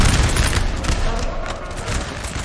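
Artillery fire in a 4v4 battle of Znaim in the video game Napoleon Total War, a dense, continuous rumble of booming cannon volleys mixed with distant musket crackle across a noisy battlefield.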